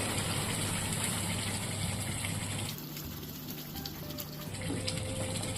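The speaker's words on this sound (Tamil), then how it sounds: "மிக்சி ஜாரை கழுகி அந்த தண்ணியை சேர்த்துக்கிறேன்" Water pours steadily into a pot of Kerala-style sardine curry, a continuous splashing gush that shifts slightly in tone midway, with no voices.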